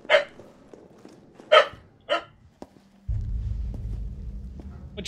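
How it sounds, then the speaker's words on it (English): Dogs barking in Resident Evil 3 Remake: three sharp, separate barks spaced over a couple of seconds, fairly close, followed by a low steady rumble of game ambience. "Much barking today."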